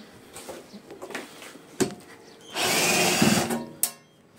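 Nuts come off an old, badly worn amplifier: scattered metallic clicks and taps, then about a second of loud powered whirring like a drill or driver, ending in a sharp clack, with no voices.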